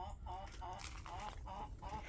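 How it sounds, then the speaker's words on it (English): Chickens clucking in repeated short calls outdoors during a walk, fairly close, with steady low background noise and no talk over them. "Here's the chickens."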